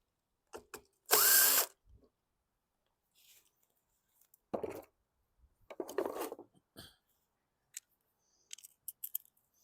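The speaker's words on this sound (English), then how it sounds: "I still have the 8mm on the impact, so outside 2 screws are the 8s." An impact driver backs screws out of a 2012 Bolens push mower, with one loud sustained burst followed by several shorter, quieter bursts and clicks, close by and with no talking.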